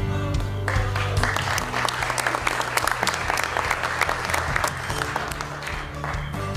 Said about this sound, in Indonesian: tepukan yang gemuruh untuk Pak Jokowi